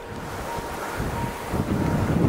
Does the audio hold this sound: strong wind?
yes